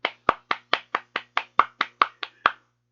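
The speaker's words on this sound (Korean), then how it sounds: "박수!" An audience claps in a slow, even rhythm: about a dozen crisp, separate claps evenly spaced, close and clear against silence.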